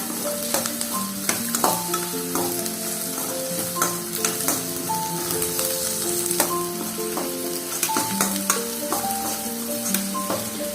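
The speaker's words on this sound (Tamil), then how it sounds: "கேரட் ரொம்ப வெந்துடக்கூடாது, ஒரு 2 நிமிஷம் வதங்கினா போதும்." Carrots are sautéed in a pan with a steady sizzle and occasional stirring clicks. Tonal background music runs throughout and partly masks the frying.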